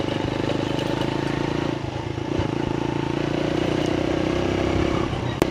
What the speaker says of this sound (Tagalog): Ito yung bago nating motor, yung Monarch Axis 125.